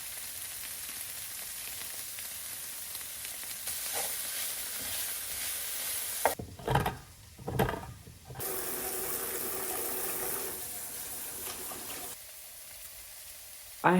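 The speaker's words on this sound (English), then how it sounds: "I'm going to crush the garlic into the pan. I'm going to fry off this as well" Garlic and herbs fry in a pan with a steady, moderate sizzle, interrupted midway by a few seconds of running tap water and clattering, then the frying resumes.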